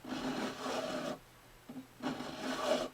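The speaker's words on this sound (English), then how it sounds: "I'm just going to hit it a couple of times with a file." A file rasps back and forth in the nut slot of a Gibson Southern Jumbo acoustic guitar, scraping out old glue in two close, dry bursts of strokes separated by a brief pause.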